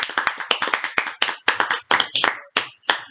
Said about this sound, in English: Give a round of applause, everybody.